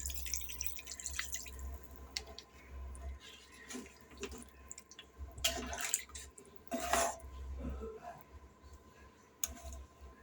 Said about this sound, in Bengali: বন্ধুরা দেখুন জল দিচ্ছে।